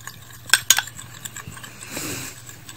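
A skincare gel mixture is stirred in a bowl, giving a few close, sharp clinks of a utensil against the bowl, then softer wet scraping sounds.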